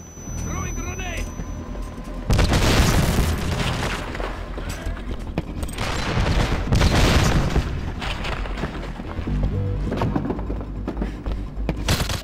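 Grenade blasts in the GoldenEye video game, several heavy booming explosions that rumble and sustain across the span, with a lighter electronic start before the first big burst.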